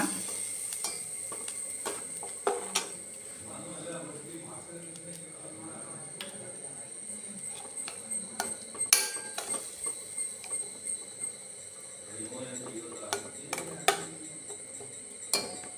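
Spoon stirring mulberry pickle masala after fenugreek powder is added, giving a steady run of small metallic ticks and clinks against the pan, close and fairly soft, under a voice talking throughout.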